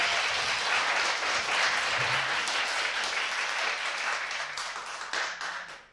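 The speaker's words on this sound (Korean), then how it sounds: "굉장히 용감한 결단이다. 박수!" Sustained applause from a studio audience on a Korean political talk show, steady dense clapping that holds for several seconds before tapering off at the end, with a few faint voices underneath.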